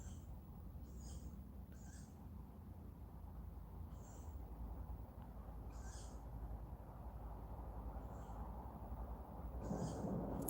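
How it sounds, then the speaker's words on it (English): A bird squawks and screeches several times at intervals against a low, steady nighttime background rumble. "You can hear one of the birds squawking."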